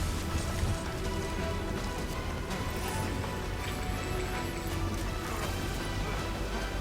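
Steady timefall rain from the Death Stranding video game hisses continuously and evenly across the whole stretch, with faint soft patters and a few light clinks within the dense wash, and no voices.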